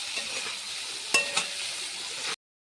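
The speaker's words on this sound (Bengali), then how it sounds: "কেটে রাখা আলুগুলোকে ভেজে নিতে হবে মাছের জন্য। এর মধ্যে পরিমাণ মতো লবণ আর হলুদ দিয়ে দিতে হবে" Potatoes fry in a pan with salt and turmeric, prepared for a fish curry, giving a steady close sizzle with a couple of sharper stirring clicks before cutting off abruptly.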